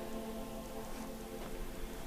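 Rain falling outdoors at the smithy in Solitude in the video game Skyrim, a soft, even hiss of drops with a faint low rumble underneath, quiet and continuous with no talk.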